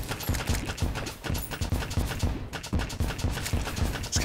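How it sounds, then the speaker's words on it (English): Rapid, evenly spaced little pops and bursts from a needler weapon in Terraria repeat nearly continuously, close and fairly loud, with no voice over them. "It's kind of nice, these little explosions from the needler."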